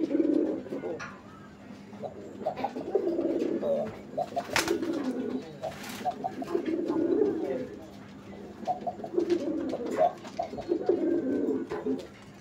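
Raj golla pigeons coo in repeated low, throaty bursts while being handled close by, with occasional sharp rustles and knocks between the calls.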